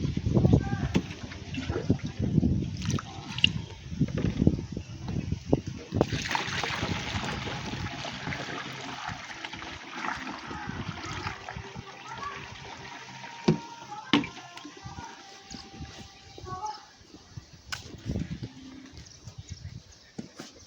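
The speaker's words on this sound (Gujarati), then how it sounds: "એક ડબલું પાણી નાખ્યું." Water gushes and splashes into a pesticide sprayer tank on a soybean farm, loud at first then trickling off, with people talking nearby.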